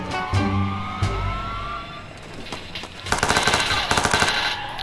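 Gunfire in the video game Watch Dogs 2: rapid automatic bursts crackling loudly in the final seconds after a stretch of vehicle and engine sounds, close and punchy.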